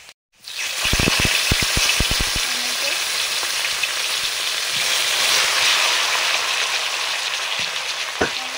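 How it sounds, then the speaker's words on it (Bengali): Nigella seeds hit hot mustard oil with a burst of sharp crackles and pops, then settle into a loud, steady sizzle that carries on close by. "সরষের তেল দিয়ে কালো জিরে দিলাম"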